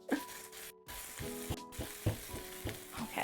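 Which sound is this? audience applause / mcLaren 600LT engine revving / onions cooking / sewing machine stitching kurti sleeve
onions cooking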